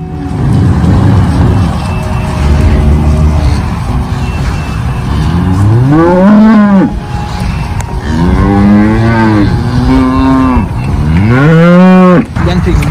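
Cattle on an organic beef farm moo several times, long rising and falling calls from about six seconds onward, loud and close over continuous outdoor rumble.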